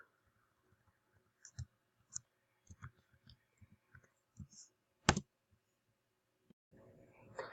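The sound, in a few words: typing numbers into a calculator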